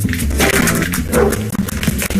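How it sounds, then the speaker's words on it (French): Dog barking inside a school, a few loud close rough barks in quick succession. "Oui, il y a un chien à l'école."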